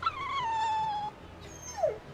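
Puppies in the video game Tales of Berseria let out a long, sliding whimper that tapers off, followed by a short rising yip-like squeak, clear against a faint background.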